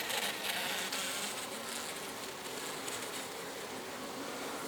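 Honey bees swarming around a cheap bucket hive fill the air with a dense, steady buzzing drone, close and continuous with no voices.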